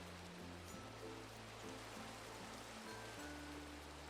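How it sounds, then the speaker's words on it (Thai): Steady broadband patter of rain falling in a Minecraft world, a constant soft hiss throughout with low game music tones underneath. "วันนี้ฝน ตก ด้วย"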